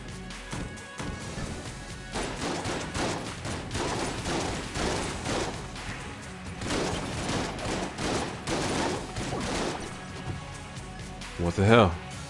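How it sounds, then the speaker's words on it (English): Rapid bursts of weapon fire from an unusual gun in the top-down shooter Enter the Gungeon, in a dense, steady fusillade of game sound effects running throughout, with a voice talking over it. "This is a crazy gun."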